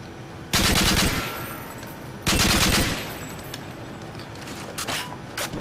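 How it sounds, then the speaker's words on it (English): Video game gunfire in a controller's 5-round burst rapid-fire mode, two loud clipped bursts about two seconds apart over low background game noise, followed by fainter scattered shots. "only a 5-round burst firing"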